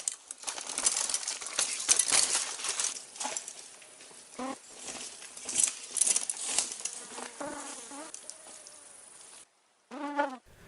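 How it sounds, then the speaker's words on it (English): A flying insect buzzes close against a camera microphone on a steep mountain bike trail in Copper Harbor, giving loud, irregular, scratchy buzzing and rustling bursts through most of the clip before a short gap and a final burst. "here's what it can sound like when an insect lands on your camera microphone"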